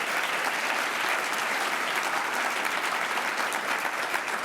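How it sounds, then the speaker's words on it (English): Loud, dense applause from an awards-ceremony audience honoring a youth advocate, a continuous roar of clapping hands held at full strength from start to finish. "let's one last round of applause for Agam Rup Kaur"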